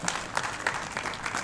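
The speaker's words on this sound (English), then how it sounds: "Can we clap for him?" Dense audience applause at a formal annual meeting, steady and moderately distant, a short burst of many hands clapping together.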